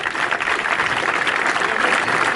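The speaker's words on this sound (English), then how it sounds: "I want a round of applause for him" Sustained round of applause from an audience at the opening of a football club's clubhouse and pitches, a dense, steady wash of many hands clapping without pause throughout.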